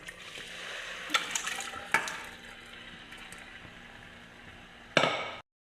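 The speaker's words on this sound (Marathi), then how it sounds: "आता याच्यात आपण मटनची ग्रेव्ही आणखी मटन टाकून देऊया" Mutton gravy and pieces of mutton tipped into fully cooked masala in a pan, giving a few clattering knocks and a wet splash near the end over a low, steady sizzle.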